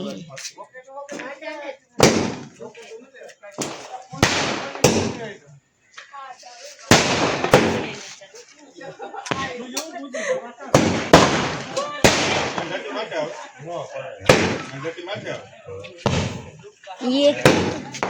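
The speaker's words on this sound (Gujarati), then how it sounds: "ઓય આ તો ધડાકા લાગે," Diwali firecrackers burst in a string of sharp, loud bangs at irregular intervals, some close and some farther off, while people talk and call out greetings through the festive noise.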